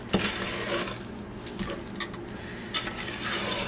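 Thick no-melt snow dough being stirred in a pan, giving close, irregular scraping and clinking of a utensil against the pan with soft squelches, no talking.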